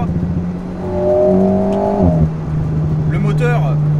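An Alpine A110 with a four-cylinder turbo engine accelerates on a rally drive, its engine note climbing loudly, then dropping and settling into a steady drone beneath a speaking voice.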